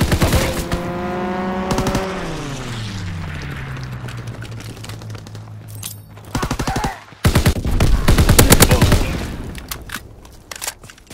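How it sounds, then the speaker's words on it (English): Strafing gunfire from a fighter plane in the Call of Duty WW2 video game, loud rapid bursts mixed with a droning aircraft engine that dips in pitch as it passes, and heavier bursts near the end. "Fighter pilot inbound, strafing the tower."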